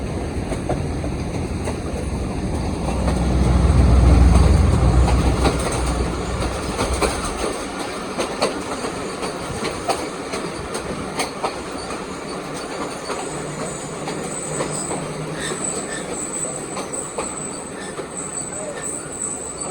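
The Chenab Express passenger train rumbles past nearby on Pakistan Railway, heavy low roar fading into rhythmic clatter and metallic squeal of wheels on rails, with insects chirping faintly.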